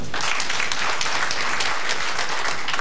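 A dense round of applause fills a nurses' association gathering at the Federal Medical Centre in Katsina. The clapping is loud and steady and continues without a break, with no voices over it.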